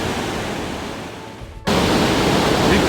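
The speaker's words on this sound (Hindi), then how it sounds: "पानी का बहाव बहुत तेज़ है, बहुत ज़्यादा तेज़" A fast-flowing mountain river roars past a washed-out bridge on the Pindari Glacier trek, a dense, loud rushing wash that jumps abruptly louder partway through and continues without any voices.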